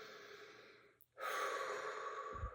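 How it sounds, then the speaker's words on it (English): Slow, soft breathing during a guided meditation, heard close as a gentle exhale that fades to a brief pause before a longer, fuller breath follows, with no talking. "Breathe in to breathe out."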